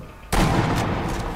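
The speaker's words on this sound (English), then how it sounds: "I'm shooting where it's supposed to be." A single sharp gunshot from the video game Sniper Elite V2 bursts in suddenly and rings out with a long, rumbling tail that fills the rest of the moment.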